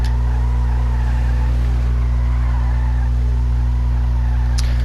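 A stock Declasse Scramjet in GTA Online circling with steady droning engine tone and intermittent tire squeal, loud and close, no voices.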